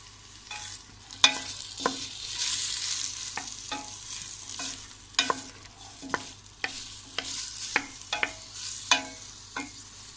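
Green lentil dish ingredients, onion among them, sauté together in a pan, with a steady soft sizzle and regular scraping stirs of a spoon repeating about every half second to second, close and without voices.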